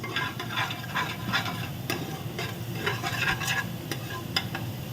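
Green chilies sautéed in a pan for a pressure cooker chicken biryani, an even sizzle under quick, repeated scraping strokes of a spoon stirring, close and moderately loud, with no talking.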